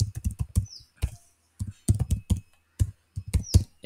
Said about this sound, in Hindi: तो आप अपना ईमेल आईडी डाल सकते हैं।